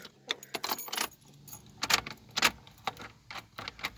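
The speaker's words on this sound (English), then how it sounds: "Got the keys." Keys for a 1996 Ford Explorer Sport jangle up close in repeated bright, rattling bursts, with short pauses between shakes and no voices.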